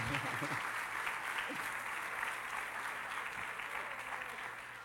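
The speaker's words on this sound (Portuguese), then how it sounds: "Palmas para a calça do 10 de novo." Audience applause during a church sermon, a sustained wash of clapping from a congregation, moderately faint and steady, slowly fading toward the end, with some voice underneath.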